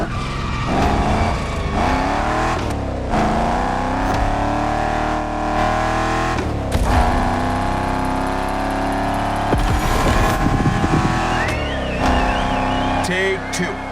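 Shelby GT500, the first model of the lineup, driving laps in The Crew Motorfest racing game: a steady engine drone with revving swells and brief tire squeals, loud and continuous, with a voice talking over it at times.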